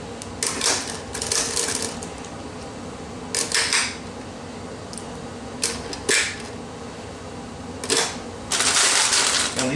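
Rounds being loaded into a 75-round AK-47 drum magazine, sharp metallic clicks and clacks in irregular bursts every second or two, close and fairly loud over a low background hum.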